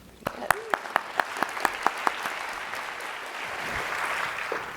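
A lecture-hall audience breaks into applause welcoming a speaker at an academic talk, a mix of sharp individual claps early on that swells into a fuller, steady wash of clapping, with a faint voice underneath.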